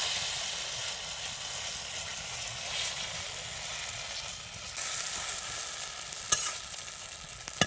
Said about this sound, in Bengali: এবার আমি ভেজে নেব কড়াইটা গরম হয়ে গেছে